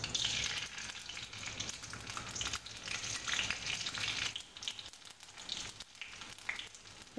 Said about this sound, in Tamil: இப்போ எல்லாம் நல்லா வெடித்து வந்துடுச்சு.